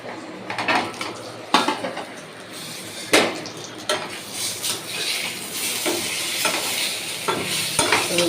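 Slices of pointed gourd fry in oil in a pan in a home kitchen, a steady sizzle broken by sharp clacks and scrapes of a utensil against the metal, close and without talking.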